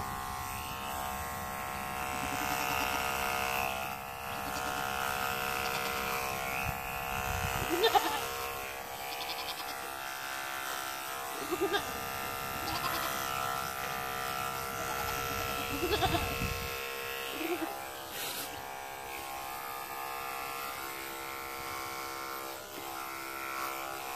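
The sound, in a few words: electric clippers shaving a goat's udder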